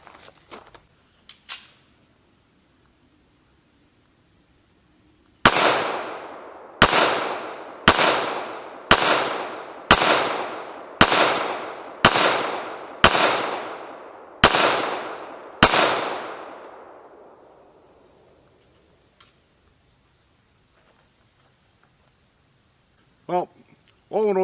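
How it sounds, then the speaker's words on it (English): Kimber Custom Crimson Carry .45 ACP pistol fired ten times in a steady series of sharp, loud reports, each followed by a brief ringing decay, with quiet gaps before and after the string. "I think I'm going to run a few more rounds through it"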